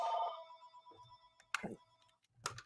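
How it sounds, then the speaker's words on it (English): A telephone rings with an electronic bell tone that rings out at the start and decays, followed by a few sharp clicks and knocks nearby, with a voice talking faintly. "My phone's ringing because I forgot to take it off the hook."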